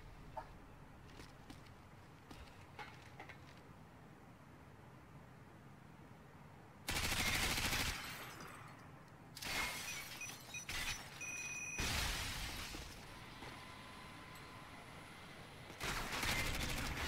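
M4 rifle fire in Call of Duty Modern Warfare 2 during a killcam: loud sustained automatic bursts, several of them separated by quieter stretches of faint game ambience.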